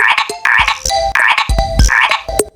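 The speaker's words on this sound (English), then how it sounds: "Frog makes croaking sounds." A frog croaks in a run of loud, close, rhythmic calls, several bursts in quick succession with short gaps between them.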